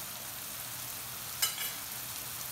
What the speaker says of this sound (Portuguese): vou esperar esse molho cozinhar um pouco